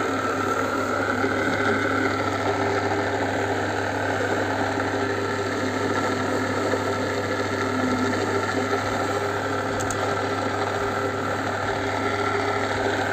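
A homemade polishing machine used on a silver-plated bracelet runs with a steady, loud motor drone and hum, the whirring grind continuing unchanged throughout with no talk over it.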